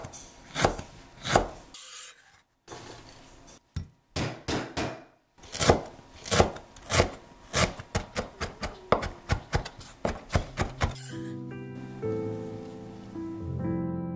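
A knife rapidly chops lemongrass on a cutting board in quick bursts of sharp taps, close up, then a short musical tone plays.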